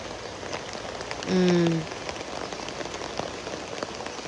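Steady rain pattering on surfaces, close and continuous, with a brief low tonal hum rising over it partway through.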